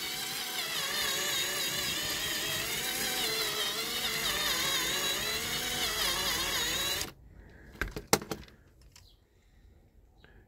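A small power drill whines steadily while drilling out the diecast metal base of a Dinky Toys Triumph 1300 model car, then stops abruptly, followed by a few sharp clicks and knocks of handling the piece.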